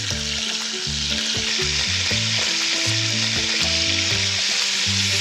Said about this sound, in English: See how fast it's gonna brown in that bacon fat?